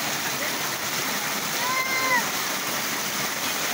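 Water pours steadily down a cliff where people are swimming and diving, a constant broadband rush of falling and splashing water close by, with brief faint squeaky tones partway through.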